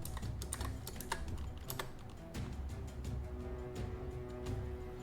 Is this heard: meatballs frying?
no